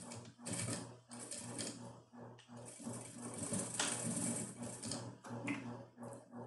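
A sewing machine runs in short and long bursts, stitching a thick seam on a fabric car trash bag. The motor hum is steady and close, with brief pauses between runs and no talking.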